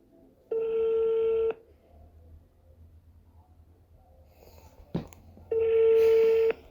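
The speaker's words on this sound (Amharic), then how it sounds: "ቆይ እየደወልኩለት ነው" A phone call being dialed, heard as two long, loud electronic ringback tones separated by a quiet gap with a brief click, close by and with no voices.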